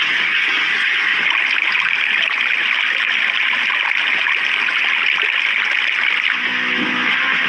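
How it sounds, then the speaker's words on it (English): Water rushes steadily through pipes and drains out into a forest from a home dug inside a mountain, a continuous, loud hiss with no pauses. "Water flows perfectly through the pipes and drains safely out into the forest"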